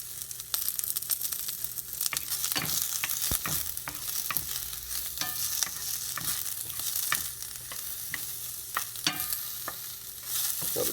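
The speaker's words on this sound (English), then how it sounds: "So I decided basically midway through browning these that I want to go ahead and add some onions." Vegan sausages and onions fry and brown in a pan, giving a steady sizzle broken by repeated scraping and stirring clatters of a utensil, close and fairly loud throughout with no talking.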